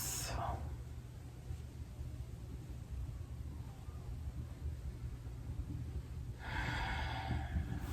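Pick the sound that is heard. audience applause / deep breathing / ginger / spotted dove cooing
deep breathing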